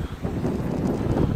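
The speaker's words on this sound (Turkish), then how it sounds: "Bayağı da rüzgarlı bir durum." Strong lodos wind at Tarabya on the Bosphorus buffets the microphone in a continuous, loud roar with no voices.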